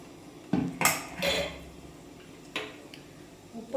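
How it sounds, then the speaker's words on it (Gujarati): Clattering of a metal pan and utensils while farali dhokla batter is poured in a home kitchen: a few sharp clanks and scrapes in quick succession, then a softer knock, close and moderately loud. "બેટર આમાં રેડી દેશું"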